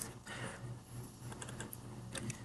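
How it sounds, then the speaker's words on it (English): Typing on a computer keyboard, a quick, close run of light clicking keystrokes at low volume with no talking. "Let's type this."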